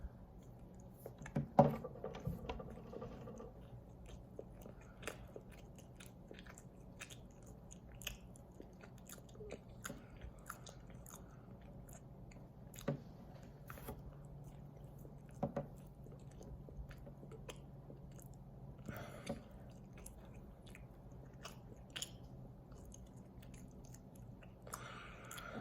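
Someone chews a Nature's Bakery oatmeal crumble strawberry bar, with soft close bites and quiet mastication scattered across the clip, faint and alone without talk.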